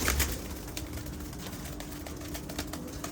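A fancy breeder pigeon coos softly and repeatedly at close range against a faint, noisy background, with no speech over it.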